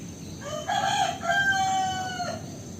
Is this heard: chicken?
yes